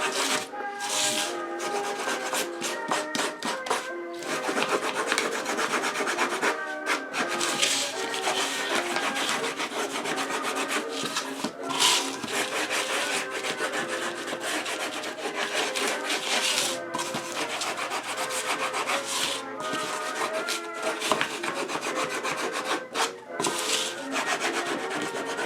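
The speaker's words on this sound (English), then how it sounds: "use some heavy sandpaper like 40 grit to smooth out the edges" Coarse 40-grit sandpaper scrubs steadily back and forth along the cut edges of a hollowed-out book, a continuous dry rasping close by with no voices.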